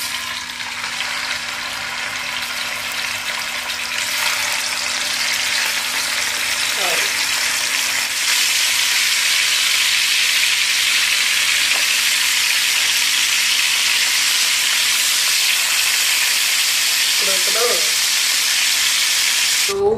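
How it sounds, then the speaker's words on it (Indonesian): Tuna fish meat frying in hot oil gives a loud, continuous crackling sizzle that holds steady for the whole stretch, heard up close, with only faint background sounds beneath it. "Ini daging tuna, daging ikan tuna. Kita mau goreng."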